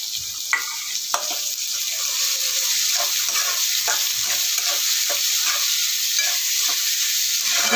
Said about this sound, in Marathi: आपलं लसूण चांगला लाल झालेला आहे तर आता टाकूया कांदा